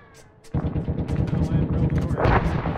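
Rocket explosions and gunfire in the military shooter Arma 3 during a raid on Tanoa: a quiet opening, then a loud dense burst of blasts and rattling fire about half a second in, continuing to the end with voices talking underneath.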